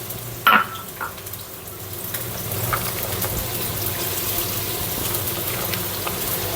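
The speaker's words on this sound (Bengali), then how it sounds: "এখন দিয়ে দিচ্ছি তেল আর কড়াইতে রান্না করতেছি ফ্রাই প্যানে রান্না করলে কেমন একটা ভাব লাগবে তার জন্য আর বেশি করে পেঁয়াজ কাঁচামরিচ দিব" Onions and green chilies frying in oil in a frying pan give a steady, moderately loud sizzle after a brief clatter at the start, with no talking.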